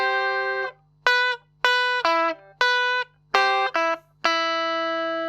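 Rockabilly-style electric guitar lick with double stops, a handful of bright, clean plucked notes and chords in a short syncopated phrase, separated by brief silences.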